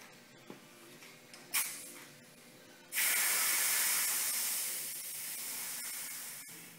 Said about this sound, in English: go around the vehicle and air up all the tires to specified pressure